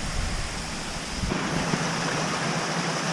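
Stream water rushing steadily near a waterfall on the Fall Creek Falls lower loop, a dense, even roar with no breaks, close and fairly loud.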